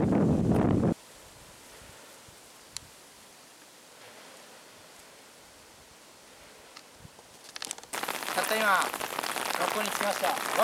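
Steady rain falls on surfaces around a school building and gymnasium, loud and close at the start and again near the end, with a quieter, softer wash of rain in between.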